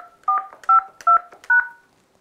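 Four telephone keypad tones from an X6 handset, each a short, clear dual-pitched beep, spaced at a steady rhythm while a voicemail PIN is entered, with nothing else in the background.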